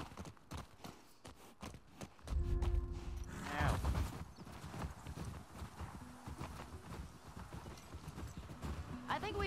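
Horse hooves clip-clop steadily during riding in the video game The Last of Us Part II, a continuous trotting rhythm with creaks and a brief whinny, with voices talking over it.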